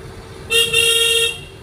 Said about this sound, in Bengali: এই হর্ন দেন এবার